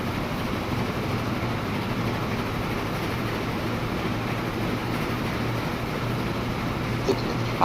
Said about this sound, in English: There's another big train coming in